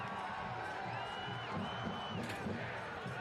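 Soccer stadium crowd roars at kickoff of a USL League One match between the New York Cosmos and Portland Hearts of Pine, a distant, faint wash of cheering with scattered whoops and a low rumble beneath.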